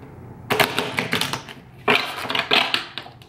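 Tarot cards are shuffled by hand, close to the microphone, in two bursts of rapid riffling clicks and slaps separated by a short pause.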